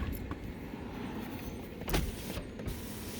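The rear power window of a 2019 Toyota RAV4 runs with a low, steady motor whir under the car's background hum, broken by a couple of brief clicks or thumps near the end of its travel.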